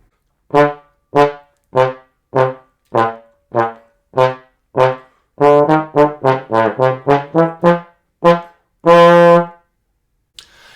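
A trombone plays a run of clipped staccato notes, each cut off too short, about a dozen fairly loud, separate blasts that speed up into a quicker burst and end on one longer held note, with no other sound.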